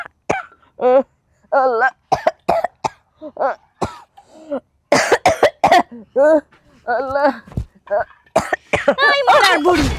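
An old woman coughs in harsh repeated bursts and clears her throat, mixed with spoken exclamations and other voices at close range.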